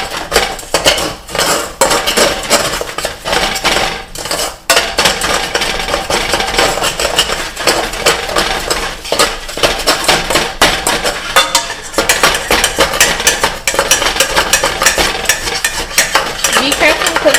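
Sugar being stirred in a pan over medium heat with a spoon, giving continuous close scraping and clinking of metal against the pan, loud and busy throughout with brief pauses and no talk.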